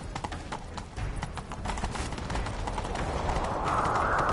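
Horse hooves clatter in a quick clip-clop gallop rhythm in a video game, growing louder and busier as a rushing wash of noise builds toward the end.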